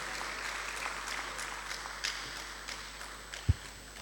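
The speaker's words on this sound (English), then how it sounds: "Let's give Professor Feza another round of applause." Scattered, moderate applause from an audience in a conference room, with individual claps audible and a single louder thump near the end.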